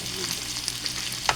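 Sweet potato lumpia fries in a pan, a soft continuous sizzle with faint crackles over a brief moment.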